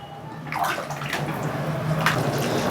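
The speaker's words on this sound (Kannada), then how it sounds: "ಚೆನ್ನಾಗಿ ಕುದೀತಾ ಇದೆ ನೋಡಿ" Fenugreek rice (menthya bath) boiling in a pot in a home kitchen, giving a steady bubbling, watery churn at close range with no talking.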